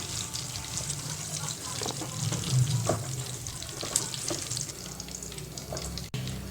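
Eggs with salt and turmeric sizzling and crackling in hot oil, a steady close frying sound with scattered pops and clatters throughout.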